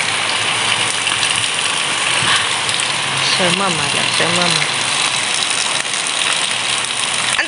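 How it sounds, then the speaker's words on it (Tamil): Rain falls steadily at a rural home, a loud, dense hiss that fills the whole stretch while a person speaks a short phrase over it. "மழையெல்லாம் பெய்ய வலிக்கிட்டுது"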